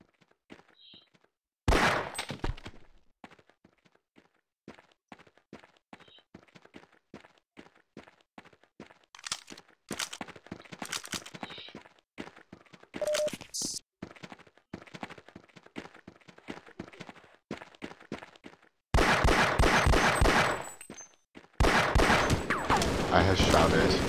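Gunfire in the video game Half-Life: Freeman's Return: rapid sharp shots in bursts and single cracks, with dense close fusillades near the start and end, spread across the whole stretch with no talk.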